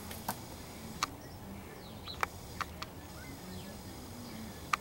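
A crow gives a series of sharp, isolated clicks, about seven brief dry ticks spaced irregularly over a quiet outdoor background, fairly close.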